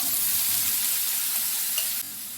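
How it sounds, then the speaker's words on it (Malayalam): Bitter gourd hits hot oil where mustard seeds and dried red chillies have been crackling, making a loud, steady sizzle with no talking; the hiss dips slightly near the end. "ഇപ്പം കടുക് പൊട്ടിട്ടുണ്ട് ഇനി നമുക്ക് പാവയ്ക്ക് ഇട്ട് കൊടുക്കാം"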